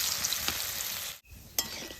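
Gondho patali leaf fritters fry in hot oil with a steady bright sizzle, broken by a brief lull and a sharp spatter as the pan is stirred.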